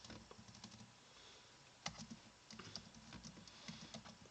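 Fairly quiet keyboard typing at a computer in a home setting, with scattered keystroke clicks in short bursts and a low room hum underneath.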